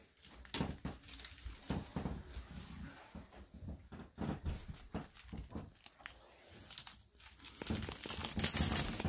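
Plastic wrap being pulled off a new Samsung TU8000 55-inch TV, bursts of loud close crinkling and crackling in irregular handfuls, with brief pauses between pulls.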